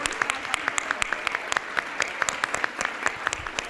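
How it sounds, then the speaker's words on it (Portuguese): An audience at an education debate applauds, a moderate crowd of clapping with distinct individual sharp claps standing out in an uneven rhythm throughout. "palmas para todo mundo que veio de longe, que está aí com a gente"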